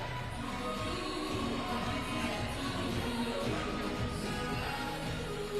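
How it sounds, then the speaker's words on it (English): Sustained audience applause at the Kalasha Awards 2026 film night at KICC, a dense, steady wash of clapping from a large crowd filling the hall throughout, with no speech over it. "Please put your hands together for Nawi, ladies and gentlemen"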